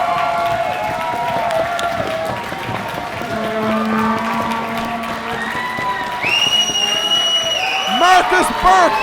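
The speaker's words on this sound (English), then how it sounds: "A standing ovation from this sold-out IHW crowd!" A sold-out wrestling crowd applauds and cheers in a standing ovation after a championship win, a loud steady roar of clapping with whistles and shouts rising near the end.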